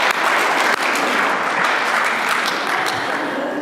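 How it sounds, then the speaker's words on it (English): Sustained audience applause filling the room, dense and steady from start to finish with a brief dip near the beginning, loud and close with no talking over it. "Can I have a clap for that? Can I have a clap?"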